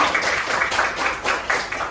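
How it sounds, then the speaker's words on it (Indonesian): A classroom of students applauds together at the end of a history lesson, a dense, close burst of many hands with a loose rhythmic pulse running through it. "kita kasih tepuk tangan untuk kita ini semuanya"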